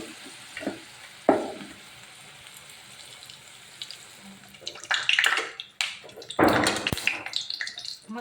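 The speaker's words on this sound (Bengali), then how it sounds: "চপগুলো লাল লাল করে ভাজা হয়ে গেছে" Banana flower and prawn chops deep-frying in hot oil, with sizzling that rises in loud, uneven bursts in the second half, likely as the chops are stirred or lifted, between quieter stretches of faint bubbling.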